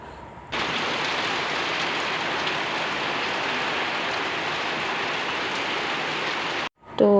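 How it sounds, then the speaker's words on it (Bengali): Heavy rain pours down in a dense, steady roar that starts abruptly and holds at an even level for several seconds before cutting off briefly near the end. "এত জোরে বৃষ্টি নেমে গেছে"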